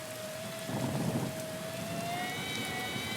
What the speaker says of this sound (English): Oh, this way it's just continuous rain.